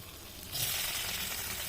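An egg for chowmein hits a hot pan and bursts into loud, steady sizzling and crackling that holds for over a second after a quieter start.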